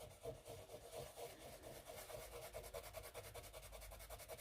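A finger rubbing dried masking fluid off watercolour paper gives a steady, close, rhythmic scratchy rubbing that continues throughout, fairly quiet, with no talking.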